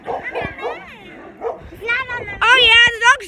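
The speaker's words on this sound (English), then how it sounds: "the dog's howling on us" A dog yips, whimpers and lets out rising howls in short bursts, close and fairly loud, growing stronger toward the end.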